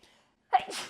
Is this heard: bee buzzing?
no